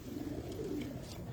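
Soft low cooing of pigeons inside a loft, faint continuous murmur with muffled voices in the background.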